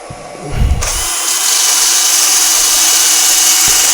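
A wooden piece spins on a lathe while being sanded, a loud steady whirring hiss with broad scraping friction that starts after a brief low thump and continues unbroken.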